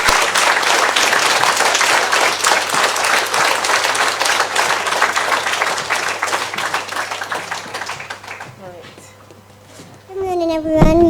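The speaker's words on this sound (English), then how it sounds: "Huge round of applause for them." Loud, dense audience applause at a hospital staff graduation for interns carries for several seconds, then thins and fades, with a voice and other people talking near the end.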